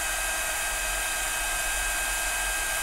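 A heat gun blows hot air over a stencil, a steady, close, loud whooshing hiss with a low motor hum, continuous and unbroken, with no talking.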